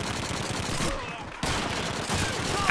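Gunfire in the World War II shooter game Call of Duty 2, with a dense, steady rattle of shots from rifles and machine guns that breaks off briefly and then resumes, loud and continuous.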